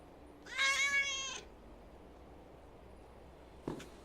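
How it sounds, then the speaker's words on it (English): A single short cat meow from the indie horror game A.I.L.A, clipped and abrupt, heard once in near silence, followed a few seconds later by a faint soft tap. "Sounds like they ran out of budget for the full meow there."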